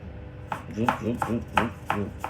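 Knife chopping food on a cutting board while cooking ghee rice and chicken curry: a string of crisp, close taps at an uneven pace, with a voice talking alongside.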